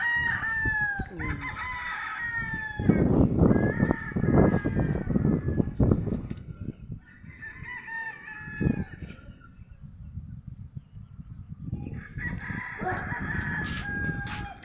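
Several fighting roosters crow one after another over continuous clucking of chickens, close and fairly loud, with brief pauses between calls.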